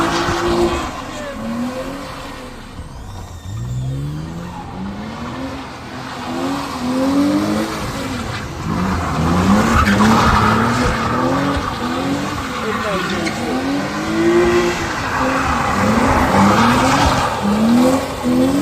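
Drifting car at a London night car meet, tyres squealing in long wavering howls over a rumbling, revving engine, close and loud throughout with voices in the crowd underneath.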